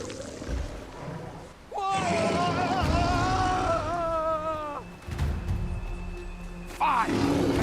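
A Cyclops roaring in the video game Dragon's Dogma 2, a long, loud, wavering bellow that rises and holds for about three seconds, followed by heavy rumbling and a shorter growl, with game voices nearby.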